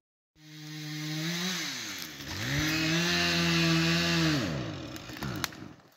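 A chainsaw runs close by in a forest, revving up, dropping briefly, then holding a loud steady cut before winding down near the end.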